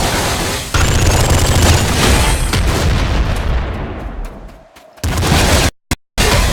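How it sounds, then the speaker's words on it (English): A flame shotgun fires in the video game Nuclear Throne, a loud sustained burst of blasting noise that fades away, then a few short sharp shots cut in and out near the end. "You can just shoot into a hallway and it'll leave that slight fire effect."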